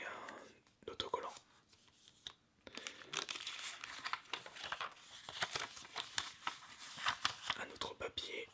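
A small paper sticker sheet from a Nintendo 3DS Eevee edition box is handled up close, with crisp crinkling, rustling and soft tapping, accompanied by quiet whispered speech.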